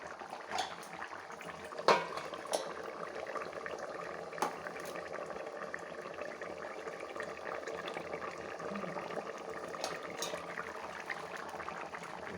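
A pot of Rayalaseema-style boti (tripe) curry simmers with a low, steady bubbling throughout, broken by a few soft clinks and knocks, fairly quiet and without talk.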